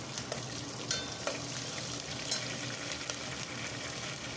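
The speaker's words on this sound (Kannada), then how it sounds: "ಸ್ವಲ್ಪ ಹೆಚ್ಚಿಟ್ಕೊಂಡಿರ್ತಕ್ಕಂಥ ಹಸಿಮೆಣಸಿನ್ಕಾಯಿನ ಹಾಕಿ ಸ್ವಲ್ಪ ಫ್ರೈ ಮಾಡ್ಕೊಳ್ಳಿ." Green chillies fry with browned garlic and curry leaves in hot oil, a dense continuous sizzle close up with occasional sharper crackles and stirring taps, no voices.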